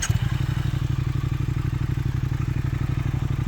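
A customized 2018 Triumph Thruxton 1200 R fires up and settles into a steady, throbbing idle, its close, loud exhaust pulsing evenly with a faint mechanical clatter.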